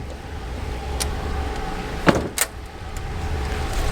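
Two RV compartment doors are shut in quick succession, a sharp thud followed by a second latch click, close by over a steady low hum from the parked vehicle at a campground.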